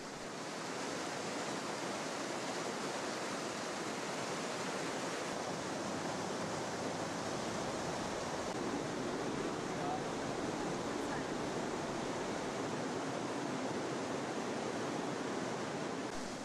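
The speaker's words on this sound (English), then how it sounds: "The rush of the water is very calming." Steady, loud rushing water roars continuously without a break through a deep rocky gorge, the Breitachklamm in Bavaria, a dense wash of white noise like a torrent pouring over rocks.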